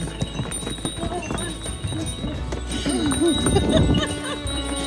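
Donkey hooves clip-clop on the stone path of a Santorini donkey ride as the animals move quickly, with people talking and exclaiming over the busy hoofbeats and other donkeys bumping nearby.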